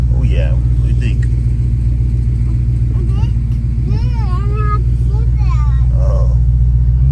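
A twin-turbo Coyote drag car idles with a steady, heavy low rumble as it's driven slowly into a trailer, the engine droning continuously beneath nearby people talking throughout.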